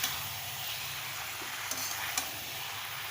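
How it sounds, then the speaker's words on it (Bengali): Ground spice paste goes into a pan of chicken for a cabbage curry, giving a steady, quiet sizzle of frying with light stirring scrapes and a couple of faint clicks of the utensil. "বেটে রাখা মশলাটাও দিয়ে দেওয়া হচ্ছে"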